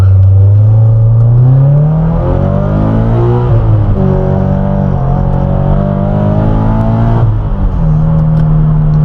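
A Subaru BRZ engine with a Stage 2 tune, custom header and E85 fuel revs and accelerates loudly, its pitch climbing through gear changes with brief dips between shifts, close and continuous.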